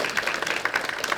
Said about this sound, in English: a round of applause for Dr. No